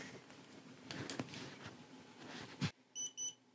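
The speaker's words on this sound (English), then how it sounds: "That beep tells me that it's ready to shoot." A 360 camera sounds two short, bright electronic beeps in quick succession after a stretch of faint rustling and handling noise, signalling it is ready to shoot.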